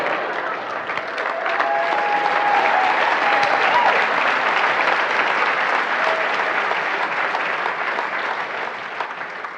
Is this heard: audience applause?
yes